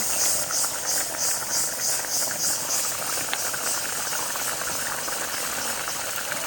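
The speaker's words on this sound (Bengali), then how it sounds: "ঝোলটা এখানে ফুটছে" Curry gravy for an egg dish bubbles steadily in a pot, a continuous hissing simmer with a soft rattling texture and no talk over it.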